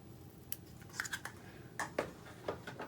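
Scissors snip through Whisper White crinkled seam binding ribbon for a treat box, making several quiet, close clicks and crisp cuts in an uneven rhythm with no talk.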